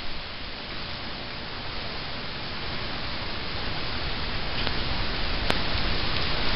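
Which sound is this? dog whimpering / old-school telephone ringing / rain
rain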